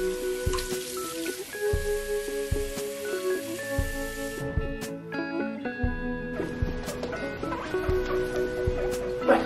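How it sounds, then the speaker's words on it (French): A guinea pig's water bowl is rinsed and filled with cold water at a tap, giving splashing, dripping and running water with clinks of the bowl, punctuated by steady pouring. "Et là je vais le nettoyer, je vais bien le laver et après je vais le remplir d'eau froide."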